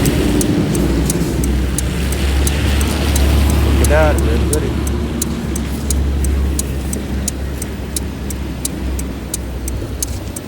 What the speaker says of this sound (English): Nice little Porsche 993.